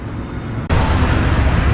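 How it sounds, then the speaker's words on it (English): A blue Holden SS Commodore pulling out of a car show at Penrith Homemaker, its engine surging into a loud, sudden rev after a quieter stretch of roadway rumble, staying close and roaring to the end. "SS Commodore in blue. Bit of a rev there, sounding nice and wild."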